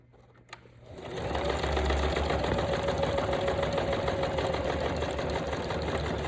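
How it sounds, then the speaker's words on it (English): A sewing machine runs steadily in a loud, continuous mechanical whir with rapid stitching, starting after a brief quiet moment. "sew across the bottom of this envelope"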